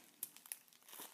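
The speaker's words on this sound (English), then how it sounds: "Opening up the package." Plastic packaging on a mailed tripod mount package crinkles in a few quick, soft rustling bursts, close and fairly quiet, with no talking.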